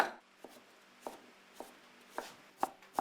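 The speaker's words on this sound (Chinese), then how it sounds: "花肉剁成肉末，" Cleaver chopping pork belly into mince on a board for stuffed Hakka fried gluten puffs: sharp, irregular thuds, about seven strikes over a few seconds, close and fairly loud with no talking.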